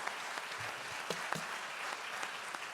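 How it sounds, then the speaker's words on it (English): An audience at a town mayor and council candidate forum applauds steadily, a dense even wash of many hands clapping that holds at moderate loudness the whole time, with no one speaking. "Please, a round of applause for these two gentlemen for putting themselves forward."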